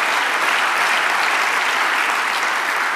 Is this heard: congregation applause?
yes